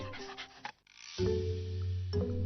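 One of a family's two dogs, Daisy or Jack, pants and snuffles up close in a busy household, short breathy bursts with a sustained low hum behind them.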